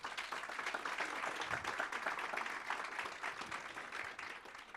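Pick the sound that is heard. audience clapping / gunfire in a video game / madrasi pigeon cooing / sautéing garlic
audience clapping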